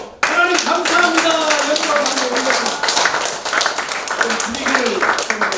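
A church congregation at a Christmas thanksgiving service claps loudly and steadily, dense rhythmic hand claps filling the room for several seconds, with voices mixed in.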